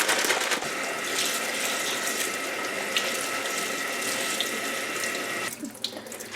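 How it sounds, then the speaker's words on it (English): Red lentils are rinsed under a running kitchen tap, a steady close rush of water into a sink with faint rattling of the grains, cutting off near the end; no one speaks. "next is 2 cups of red lentils. I'm going to rinse them and kind of look through them."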